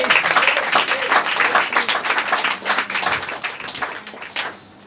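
A church congregation applauds during a French-language sermon, with steady, dense clapping from many hands that carries on loudly for several seconds before fading out at the end.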